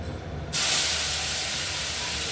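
Spice paste hitting hot white cooking oil tempered with black cumin seeds for a rohu fish curry with potatoes, bursting into a loud, steady hiss of sizzling after a quieter start, spitting continuously close by with no talk.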